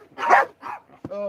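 A dog barks excitedly while racing around with the zoomies: two rough, close barks followed by a higher, tonal yelp, with short pauses between them.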